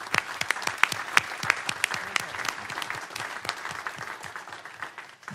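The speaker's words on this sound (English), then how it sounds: "let's give them a big round of applause" A council meeting audience breaks into sustained applause, with many hands clapping steadily and densely throughout, close and fairly loud, and no voices rising above it.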